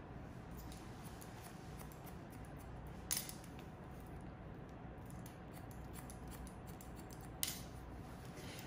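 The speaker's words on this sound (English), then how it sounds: "So we're gonna take about 1/4 of an inch and just point cut into that." Scissors point cutting into wavy thick hair during a short layered pixie cut, faint close snips over a steady background hiss, with two sharper clicks, no voices.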